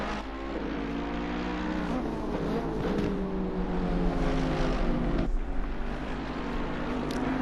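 Ferrari and Mercedes race cars in the video game Assetto Corsa Competizione roar around the track, a sustained loud engine drone with rising and falling pitch, accompanied by a brief passing whoosh midway.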